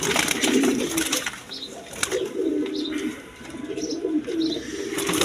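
Pigeons coo in low, repeated throaty rolls, fairly close, with faint chirps and a flutter of wings around them.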